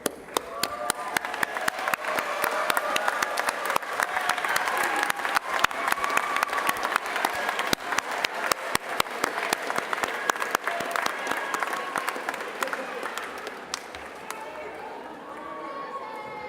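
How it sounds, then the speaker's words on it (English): Sustained applause from a graduation ceremony audience turning to face family and friends, dense steady clapping from a large crowd filling the hall, with voices mixed underneath and tapering slightly at the end. "give them a round of applause for all of their"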